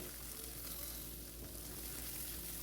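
Onion fries in hot oil in a home kitchen, a faint, steady, close sizzle with a broad hiss that runs unbroken throughout.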